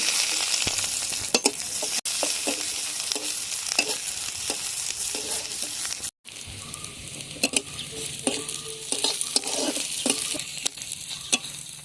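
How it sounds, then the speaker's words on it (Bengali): Chopped onion fries in hot oil in a kadai with bay leaf and cardamom, a loud, continuous crackling sizzle with scattered pops and occasional stirring scrapes, briefly cut off midway before resuming. "পেঁয়াজটা লাল লাল করে ভেজে নিয়েছি"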